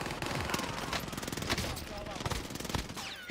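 Rapid automatic gunfire from a PPSh submachine gun in Call of Duty Warzone, dense bursts of shots running continuously at close range, with game effects layered in and a loud hit at the very end.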